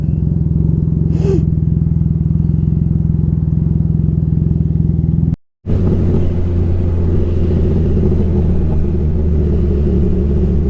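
A Can-Am Ryker 900 three-wheeled motorcycle ridden in sport mode, its engine giving a steady loud low rumble and wind roar throughout, cut by a brief break midway, then the same drone resuming.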